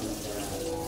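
An automatic water tap runs into a sink in a steady, unbroken rush of water that fills the whole second at an even level, with no talking.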